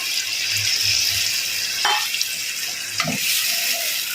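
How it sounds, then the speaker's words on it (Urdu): Water poured into a tomato curry frying in a pan, a steady sizzle and bubbling hiss with a couple of sharp splashy bursts as the liquid hits the hot oil. "اور یہ 1 کٹوری کے قریب ہم اس میں پانی شامل کریں گے۔"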